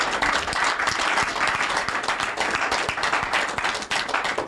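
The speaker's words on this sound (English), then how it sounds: "A round of applause." A studio audience at a Nigerian call-in television program bursts into sustained applause, dense rapid clapping filling the room evenly from start to finish without any talk over it.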